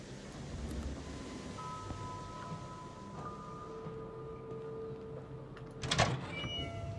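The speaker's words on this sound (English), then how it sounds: "I think the squeaky noises was the door closing." A squeaky door closes in the game Conarium, set on an Antarctic expedition. Thin, drawn-out squeaking tones rise over a low rumbling ambience, then end in a louder knock near the close.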